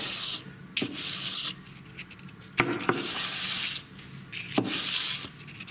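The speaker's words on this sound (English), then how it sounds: "take my time and do both sides, draw filing it nice and slow in there, kind of stroking it gently at this point." A knife edge is draw-filed slowly and gently on a 600 grit sharpener, both sides in turn, making a series of soft, close rasping strokes separated by short pauses.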